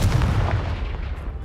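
An explosive fire spell blasts in the Hogwarts Legacy video game, a loud booming burst with a rumbling low-end tail that fades over about a second and a half, heard alone.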